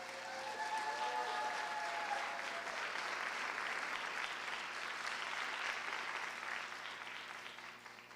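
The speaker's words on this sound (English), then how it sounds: "Let's give another round of applause to Shauna." An education awards ceremony audience breaks into a warm, even round of applause, many hands clapping together at moderate distance and gradually tapering after several seconds.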